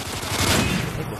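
Continuous rapid automatic fire from a sentry gun in Modern Warfare 3 survival mode on the Dome map, loud and dense with no gaps across the short burst.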